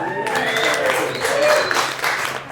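Audience at a comedy club show claps together in a steady burst of applause, fairly loud and sustained, with voices mixed in around it.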